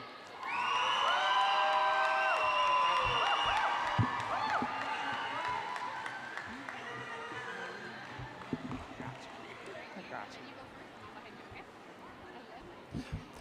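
Crowd at a graduation ceremony, the Black Graduation & Kente Ceremony, cheers loudly with whoops and high-pitched shouts that swell at the start and fade into scattered cheering and claps over several seconds, with voices talking underneath.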